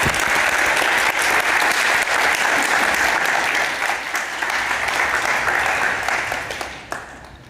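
A conference audience at a tech summit in Amsterdam gives a loud, sustained round of applause for a keynote speaker, dense and even before tapering off in the final second.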